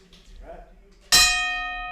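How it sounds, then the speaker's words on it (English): A single bright bell strike rings out and sustains with a shimmering decay, after faint murmuring in the room. "ring the bell"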